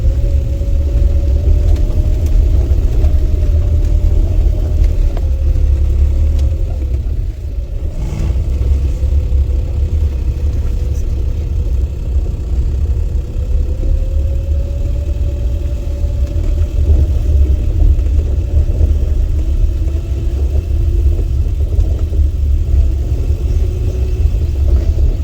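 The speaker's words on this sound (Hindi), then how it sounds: "गाड़ी की साउंड हल्की हल्की चेंज होनी शुरू हो गई है, मैंने ब्रेक रिलीज कर दी है" A car engine on a steep uphill climb hums low and steady after the brake is released, with a faint rising pitch as it accelerates gently, heard from inside the cabin with no talk.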